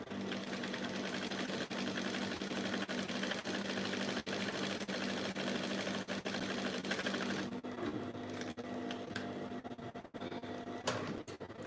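Sewing machine stitching the crotch seam of shorts, a loud continuous rapid whirring with a steady hum that eases into lighter, intermittent stitching near the end, with no talking.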